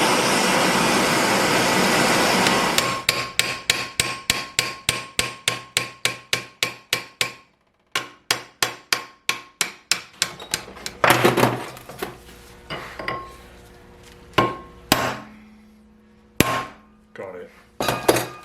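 A hammer strikes a hand-made pointed drift to free a stubborn subframe part on a Mercedes W108, beginning as a fast steady run of sharp metallic blows, then slower irregular hits with pauses and some clatter, close and loud.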